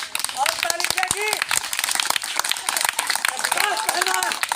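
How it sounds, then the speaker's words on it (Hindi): A crowd claps continuously and briskly, the dense rapid clatter filling the moment, with excited voices calling out over the clapping. "और ताली बजेगी।"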